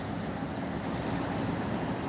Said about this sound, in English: Surf's picked up a little bit.